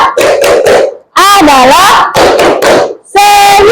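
A school class does a rhythmic clapping chant, sharp hand claps in quick bursts alternating with children's and a teacher's voices chanting along, loud and close.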